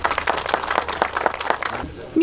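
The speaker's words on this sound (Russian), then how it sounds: "Ваши аплодисменты, друзья." Applause from a crowd at the ceremonial opening of a new inter-settlement gas pipeline in Plievo, Russia: dense, steady clapping carried throughout, with voices mixed in beneath it.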